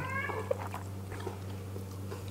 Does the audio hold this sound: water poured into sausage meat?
no